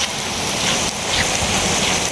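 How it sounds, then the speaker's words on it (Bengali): Heavy rain pours steadily outdoors during a walk in flooding weather with no umbrella, a dense continuous hiss of drops close around, loud and unbroken with no voices. "যে পরিমাণ বৃষ্টি হইতেছে"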